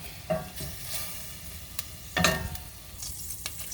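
Vegetables sizzle in hot oil in a pan while being stirred, with soft scraping strokes and a few louder clatters over a steady, close frying hiss, no talking.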